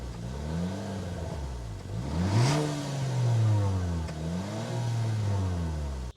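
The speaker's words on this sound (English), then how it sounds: "so you can hear that exhaust note." A 2025 Acura RDX A-Spec luxury SUV engine is revved through its exhaust in a few rising and falling blips, steady and close, with the tone swelling and settling between revs and no voices.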